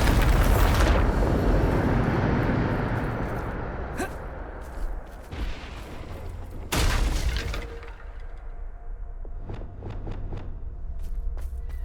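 The Bombarda explosion spell goes off in Hogwarts Legacy with a loud, broad blast that trails into a rumbling decay. A second explosive burst follows a few seconds later, then scattered debris crackles and pops.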